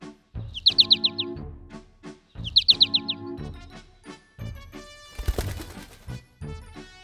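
A cartoon bird chirps in two quick bright trills over bouncy music, followed by more playful tones and effects, with nobody talking.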